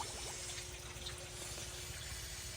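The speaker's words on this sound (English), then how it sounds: "as you can see, there were bubbles" An air pump's bubbles in a large guppy pond, a continuous dense fizzing and burbling wash of water at steady volume for a few seconds, with no voices.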